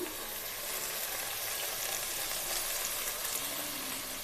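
Pieces of cooked country chicken hit a hot pan for naatu kodi pulao, giving a steady, close broadband sizzle and frying hiss throughout with no talking.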